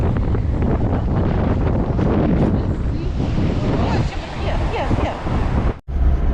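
Strong wind buffets the microphone on an ocean beach, a loud, steady roar with surf mixed in, continuous throughout and broken only by a brief dip near the end.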